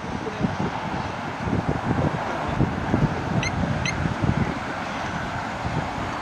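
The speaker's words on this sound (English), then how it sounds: "Bit windy here today." Gusty wind buffets the microphone outdoors, a loud low rumbling roar that surges and fades in irregular bursts, with a couple of faint brief calls, like geese, in the distance.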